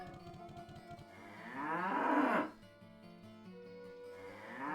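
A cow in the Diablo 1 video game with the Belzebub mod gives a long, drawn-out moo that rises and swells, then fades, with a fainter moo following, close and clear over quiet background.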